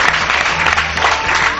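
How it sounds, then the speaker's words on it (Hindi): Audience applause at a talent show in Gwalior, a dense, steady burst of clapping filling the hall at close range with no speech over it. "जोरदार ताली हो जाए"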